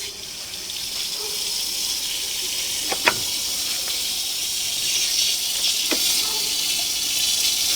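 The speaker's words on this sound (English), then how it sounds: "I'm going to pause for one moment and run a little bit of water," Water running steadily from a tap, a constant broadband hiss and rush throughout with a few faint clicks and knocks, no speech.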